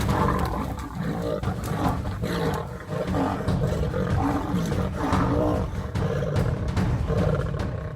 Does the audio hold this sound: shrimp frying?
no